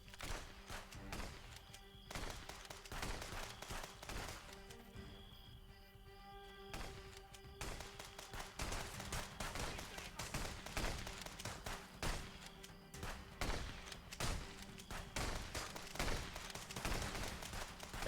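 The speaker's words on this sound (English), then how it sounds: "I hate this shotgun." Repeated shotgun blasts in the video game Contraband Police, a weapon likened to a KS-23. The sharp loud bangs are spaced irregularly over a steady game background hum, with one brief quieter gap partway through.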